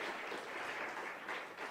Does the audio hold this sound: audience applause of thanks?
yes